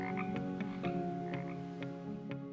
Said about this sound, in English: A tiny poison dart frog with copper-colored legs and sky blue stripes running down its back.